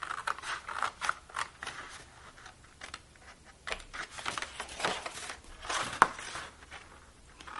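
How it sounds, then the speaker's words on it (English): Scissors snipping through cardstock along score lines for a stationery box, a close series of quick crisp cuts in uneven rhythm, with faint paper rustling between strokes. "Now we want to cut on these 2 scoring lines, all the way up to that score line."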